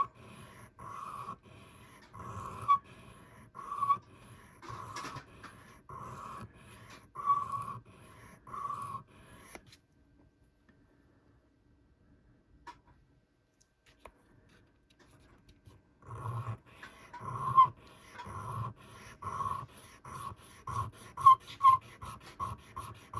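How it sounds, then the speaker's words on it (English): Rhythmic rasping strokes of sandpaper on a 1911 pistol's metal part, repeated back and forth, stopping for a quiet stretch before resuming. "we're going to polish in the direction of the travel"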